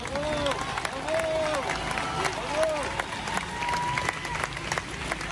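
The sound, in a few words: audience applauding to encourage a speaker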